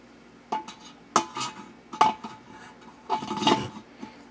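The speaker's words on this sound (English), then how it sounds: "And you just bolt your throttle body on there." Metallic scraping, clinking and ratcheting as a throttle body, a 65mm LX5 unit, is bolted onto a 3500 V6 engine, in a few close bursts of tool and part contact with pauses between.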